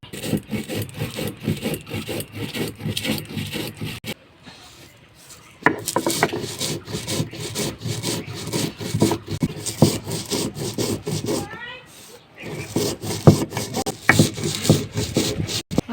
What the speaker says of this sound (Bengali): তত সময় আমি মশলাটা গুঁড়ো করে নেব।